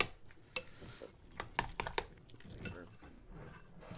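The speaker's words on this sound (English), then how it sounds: "I'm just going to give this a quick stir" A spoon stirs egg into a potato salad dressing in a bowl, soft quick scraping and light clinks of utensil against the dish, close and quiet.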